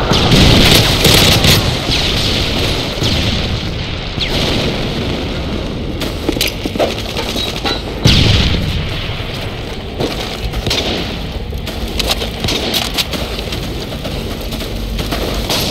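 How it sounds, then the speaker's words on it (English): A Predator missile strike explodes in Modern Warfare 3 on PC. It opens with a heavy booming blast, then dense, rain-like debris noise and rumble fill the whole stretch at high volume. "Predator missile inbound."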